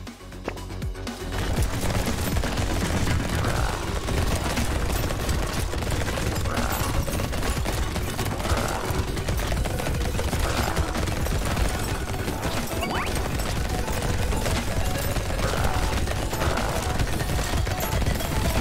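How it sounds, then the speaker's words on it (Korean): Dense, continuous rapid-fire shooting from a laser turret in Brotato, with overlapping bursts and impacts forming a loud, unbroken barrage of game effects. "레이저 포탑 드디어"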